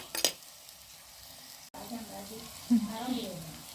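Curry leaves dropped into hot oil for a Kerala-style fish curry crackle and sizzle close by, a sharp burst early on, then a steady frying hiss with brief louder spatters near the end.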